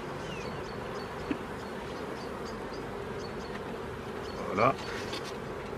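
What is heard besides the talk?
honey bees buzzing at an open hive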